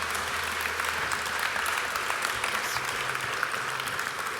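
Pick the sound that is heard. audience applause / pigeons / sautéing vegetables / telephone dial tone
audience applause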